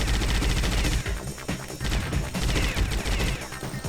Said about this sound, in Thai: ขอยิงกำแพงก่อนว่ามีไหมบ้างไหมแถวนี้